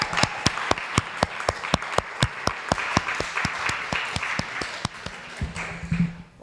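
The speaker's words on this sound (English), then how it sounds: "If you would please join me in a round of applause for, especially to Emille and Tina and Steve" Panel session audience giving a round of applause, a steady run of sharp claps from a modest group, fairly quiet and close, fading out at the end.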